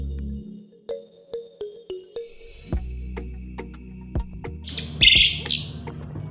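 A jalak suren (black-collared starling) calling nearby, a series of loud piping whistles and chirps followed by harsher squawking notes, clear and close.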